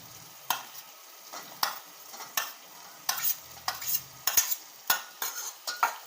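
Capsicum, added to cooked-down tomato for pav bhaji, sautés with a gentle sizzle while a spoon scrapes and taps against the pan in repeated, uneven strokes, close and clear, with no talking.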